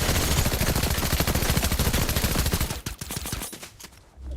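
Rapid automatic gunfire in Fortnite, loud and close, with rattling bursts that hammer steadily for more than two seconds before thinning into scattered shots and pauses.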